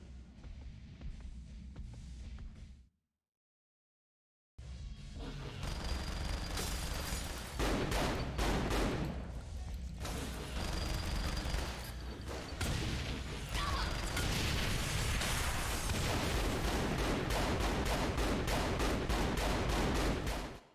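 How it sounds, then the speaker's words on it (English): Video game combat, with continuous explosions and rapid gunfire rumbling loudly after a brief silent gap, the blasts and shots layered densely for most of the stretch. "Lots of explosions."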